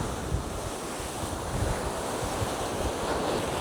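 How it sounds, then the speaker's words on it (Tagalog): Strong waves churning on a very large lake, a dense, steady wash of surf mixed with wind buffeting the microphone, continuous and fairly close throughout. "Ah, lakas ng alon. Nako. Mas lalong lumakas ah."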